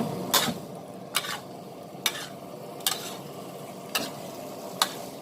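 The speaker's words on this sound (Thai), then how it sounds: "โอ้โหผัดกันเนียนเลยนะคะ" Fresh noodles stir-fried in a wok for squid basil stir-fry, a steady sizzle broken by six sharp scraping strokes of the spatula at roughly one-second intervals, close and moderately loud with no talk.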